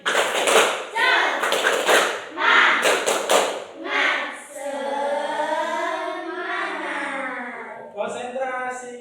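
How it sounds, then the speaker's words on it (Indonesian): A class of children doing a rhythmic spirit clap, tepuk semangat, in an Indonesian classroom, with bursts of claps alternating with loud chanted speech. "Tepuk semangat."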